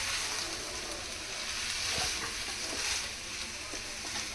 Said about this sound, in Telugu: మొత్తం ఒకసారి కలుపుకుందాం.